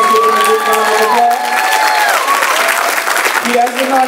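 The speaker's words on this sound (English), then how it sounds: "Let's give him a good round of applause" Church congregation applauding for Pastor Errol Carruthers, loud sustained clapping with cheers and shouting voices, some children, layered over it the whole time.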